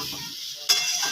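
Chopped onion frying with shrimp in a pan over low heat, a soft continuous sizzle with a brief sharper burst partway through, close and quiet, with no voices.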